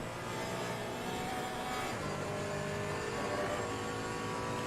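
A Porsche Cayman GT4 race car in the Assetto Corsa Competizione sim racing game howls through a lap, its engine a steady, loud onboard drone with slight pitch shifts as it accelerates and holds speed.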